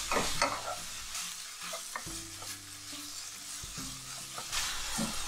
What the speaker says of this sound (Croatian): Čim smo meso dodali na prilično jakoj vatrici, uz energično miješanje meso popržimo